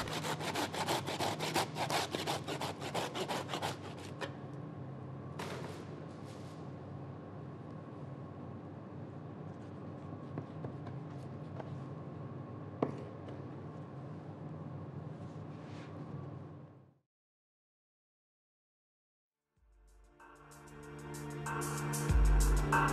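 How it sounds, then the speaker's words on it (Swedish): Rough, rhythmic back-and-forth sawing through a pig carcass at the fifth rib during butchery, loud and steady for about seventeen seconds, then silence before a separate rumbling noise rises at the end. "Vi delar fram och mellandel genom att såga över femte revbenet."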